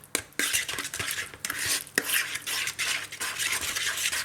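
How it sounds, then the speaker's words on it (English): A banana, sugar, vanilla and egg muffin batter being stirred by hand, giving a steady, close scraping and swishing with a few sharp clinks of utensil against bowl, with no talk. "I'm going to give this a stir around"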